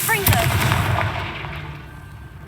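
Confringo fire spell cast in Hogwarts Legacy: a loud booming blast with crackling burst and whooshing tail that fades over a couple of seconds.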